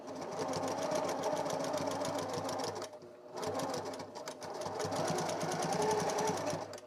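A household sewing machine stitching at steady speed, a rapid mechanical chatter that pauses briefly midway and then resumes, close and fairly quiet.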